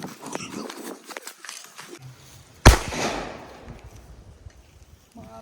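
A Vishu firecracker bursting with one sharp loud bang partway through, followed by a fading crackle, with people talking before and around it.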